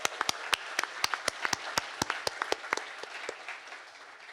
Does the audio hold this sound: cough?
no